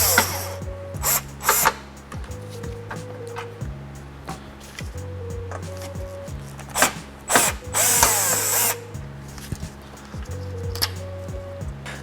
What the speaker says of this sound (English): we're going to be removing them with a power drill